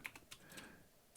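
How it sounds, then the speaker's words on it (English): Quiet, close typing on a computer keyboard, a few light key clicks spaced irregularly over about a second, with no talking. "now you'll notice I'm just typing"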